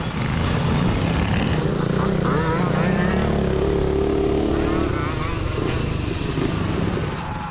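A mixed pack of motorcycles, three-wheelers and other small engines launch together at the start of a backyard endurance race, a dense, loud roar of overlapping revving motors close by, with voices faintly mixed in.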